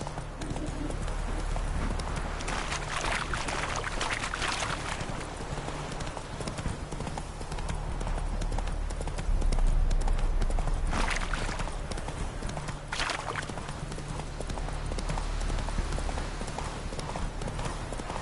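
Horse hooves gallop in The Witcher 3: Wild Hunt, a steady rhythmic clip-clop that runs throughout over a constant game background, with no talk.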